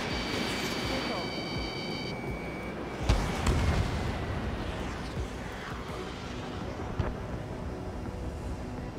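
Missile blasts from air combat in Ace Combat 7, with a loud burst near three seconds and a smaller one near seven, over a steady roar of jet noise and electronic warning tones.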